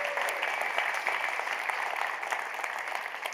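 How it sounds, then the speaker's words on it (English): Audience applause at a talk on digital technology, steady dense clapping from a room full of people, moderately loud and continuous throughout. "Please join me in giving them a round of applause for all the amazing work they've done."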